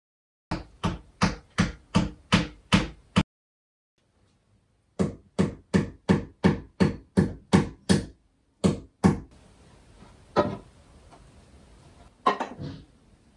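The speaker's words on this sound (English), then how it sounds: "All I could find was this massive hammer." Big hammer pounding a bedroom wall in a DIY makeover: two quick runs of about eight evenly spaced loud blows, a pause, then a few scattered strikes and some scraping, close and alone.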